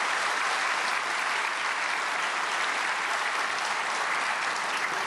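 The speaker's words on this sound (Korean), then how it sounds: "박수로 환영하시겠습니다" Church congregation applauding to welcome a preacher at a prayer meeting for peaceful reunification, a dense continuous roar of clapping at constant loudness throughout.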